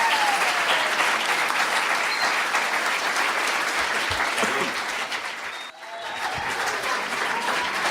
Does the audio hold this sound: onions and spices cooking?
no